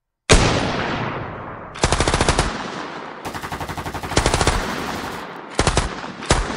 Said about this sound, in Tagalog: biglang alingaungaw ng putok ng baril